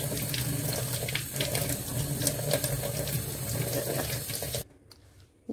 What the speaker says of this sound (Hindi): ये इतनी पत्तियां देखो बस, इनको अच्छे से धो के